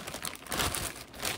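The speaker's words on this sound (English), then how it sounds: "I'm gonna have to put this plastic bag under here" A plastic bag crinkles and rustles in short, uneven bursts close by, fairly quiet, with no talking.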